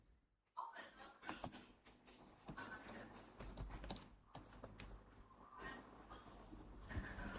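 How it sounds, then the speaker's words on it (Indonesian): Someone types a sudo iptables command on a computer keyboard, producing quiet, close, irregular clusters of key clicks with brief pauses between bursts. A soft voice can be heard at times alongside the typing. "kalian bisa ketikkan perintah sudo iptables"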